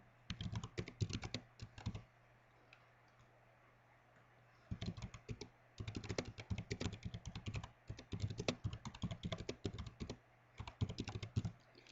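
Someone types a comment on a computer keyboard, quick bursts of close, crisp key clicks with a short pause between runs, over a steady low hum.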